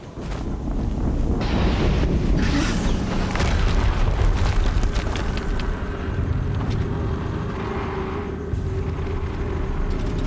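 Explosion in the video game Horizon Zero Dawn, a loud, heavy rumbling boom that swells and lingers for several seconds over a sustained roar, with no talking.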